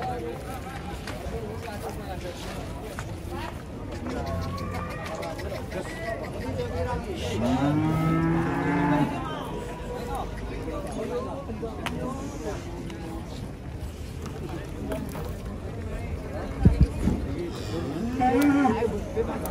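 A deep, drawn-out moo rises from very large cattle nearby at a livestock market, followed by another later, over a steady murmur of people talking.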